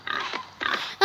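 A pig gives two short, close grunts, and a sharp, abrupt squeal-like burst cuts in right at the end.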